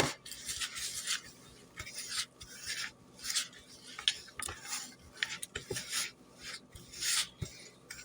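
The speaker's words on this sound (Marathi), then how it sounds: "आणि हे रवा, बारीक दळलेली साखर, हे व्यवस्थित मिक्स करून घ्यायचं आहे." Semolina being mixed with finely ground sugar in a bowl gives soft, rhythmic rasping strokes, close and quiet, repeating in bursts of scraping and rubbing.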